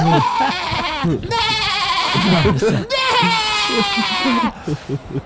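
A goat bleats loudly and close by, giving two long wavering cries with noisy breathing and grunts between them. The sound may be a voice imitating a goat.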